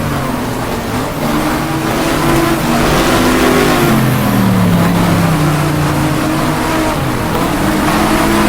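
A race car engine in the sim racing game GTR2 holds a steady, loud drone as the pitch climbs and shifts through gears, with no talk over it.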